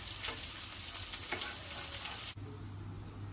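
Hara bhara kebabs fry in a pan after flipping, a quiet even sizzle with a couple of soft scrapes, then the sound shifts to a lower hum partway through.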